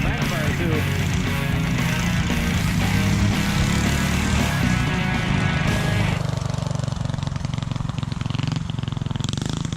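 A Yerf Dog go-kart engine runs hard and loud nearby, a rough continuous buzzing drone that shifts in pitch partway through, with a voice speaking over it.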